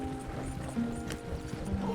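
Horse hooves clip-clopping at a run in Red Dead Redemption 2, a steady drumming of hoofbeats blended under game sound and background noise.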